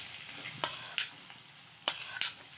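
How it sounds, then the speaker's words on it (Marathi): Onion frying in hot oil, a soft, even sizzle up close, punctuated by four or five brief spoon stirs and scrapes against the pan, with no one speaking. "तेल टाकून घेतलेले दोन चमचे कांदा टाकून घेऊया"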